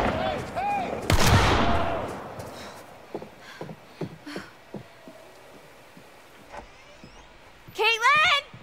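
Gunfire in The Quarry horror video game: one loud close blast, then scattered sharp cracks and thuds spread over several seconds, with a brief voice near the end.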